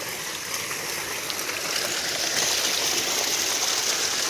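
Jeevamrut liquid fertilizer runs through a pipe with irrigation water in a wheat field, a steady gushing flow that grows slightly louder, close by and with no talking.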